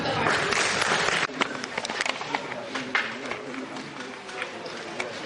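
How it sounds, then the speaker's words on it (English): An audience at a student event claps in a loud burst for just over a second, then scattered lighter claps and room noise trail off. "Ladies and gentlemen, a huge round of applause for Mr. Anup Tamar."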